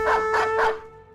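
A dog barks in the video game Battle Brothers, three even, loud barks in quick succession with a ringing tonal quality, fading out at the end, with no speech.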